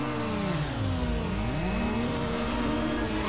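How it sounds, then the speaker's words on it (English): A car engine in Need for Speed Underground over-revs, its pitch climbing, dipping and surging again in wavering sweeps, loud and close with no talk. "Over rev."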